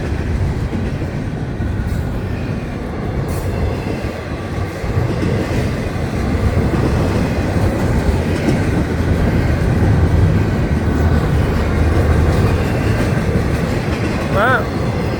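A long freight manifest train rolls steadily past, a loud continuous rumble of wheels and cars with rhythmic rail clatter and a faint squeal near the end, holding level throughout.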